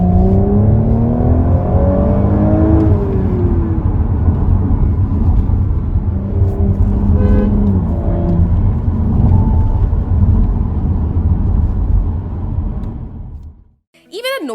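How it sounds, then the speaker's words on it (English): A 2021 Audi S5 Sportback with Quattro all-wheel drive accelerating hard, loud rising engine drone with climbing gear tones heard from inside for over twelve seconds, then cutting off abruptly. "As soon as you start moving, you are treated by a wave of power and torque, which offers relentless acceleration"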